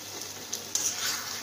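Shrimp with taro stolon being stirred in a pan with ghee and garam masala: a soft continuous sizzle with a couple of brief scraping stir strokes, close and fairly quiet.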